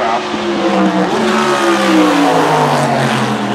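A 1995 Ford Roush Mustang GTS-1 Trans-Am race car at a festival of speed hillclimb blasts past close and loud, its engine note sweeping up as it accelerates with a roaring exhaust.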